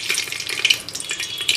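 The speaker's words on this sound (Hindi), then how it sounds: "जब तक इसका जो फ्लेवर है ऑयल में ऐड नहीं हो जाता है, तब तक कि हम इसको इसमें फ्राई करेंगे।" Garam masala frying in oil in a pan, a brief close crackling sizzle with light stirring, no voices.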